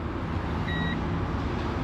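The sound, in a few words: Fiat Topolino beeping after key is turned on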